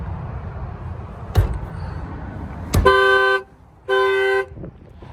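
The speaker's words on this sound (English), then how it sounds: "I'm gonna go ahead and set off this alarm here." A Dodge Challenger's alarm blares its horn in two long honks, each about half a second, after a couple of sharp clicks and thumps.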